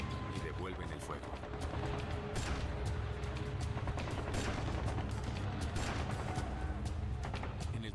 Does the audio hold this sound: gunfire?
yes